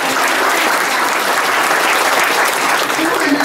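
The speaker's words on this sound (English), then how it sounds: "I think that should be an applause line" Applause breaks out at a Middletown Township Committee meeting in New Jersey, loud, dense, continuous clapping from the room with some voices mixed in throughout.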